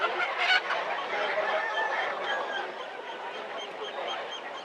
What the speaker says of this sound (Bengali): অনেক বড় একটা টার্কি মুরগি।